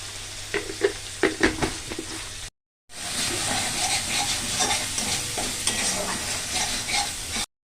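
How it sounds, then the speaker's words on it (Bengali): Spices fry in a pan for a pointed gourd and soybean curry: a few sharp utensil clinks and stirs, a brief break, then a loud, steady sizzle with light stirring underneath. "মশলাটা ভাজা হয়ে গেছে, সোয়াবিন আলুগুলো দিয়ে দিলাম।"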